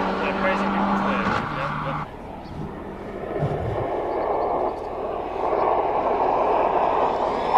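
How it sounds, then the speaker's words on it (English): A Mercedes-AMG race car storms past at a hillclimb, its engine roar building and then fading away, with the noise of the event around it. "On track, you're watching Courtney Nickel in AMG doing 197 through the speed trap"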